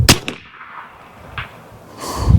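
An air rifle fires a 3D-printed sabot round of about 247 grains with a sharp, loud crack right at the start. A fainter metallic knock follows, and a rumbling noise rises near the end.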